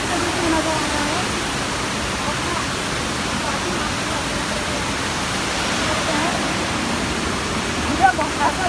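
Tirathgad waterfall near Jagdalpur in Bastar, Chhattisgarh, pours with a steady, even rushing roar that holds unbroken throughout, broad and full like heavy hiss.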